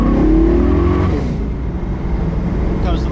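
A Trans Am Firebird with a swapped 620 hp LSX 454 V8, 4L80e transmission and 2.5-inch dual MagnaFlow exhaust revs hard, then settles into a loud, rumbling idle, close by, with someone talking over it.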